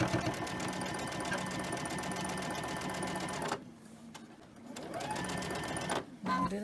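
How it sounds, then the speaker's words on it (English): A sewing machine stitches over previously sewn cotton fabric, a rapid steady whir that runs continuously, pauses briefly, then starts again in short bursts. "We'll just sew right over what we did before."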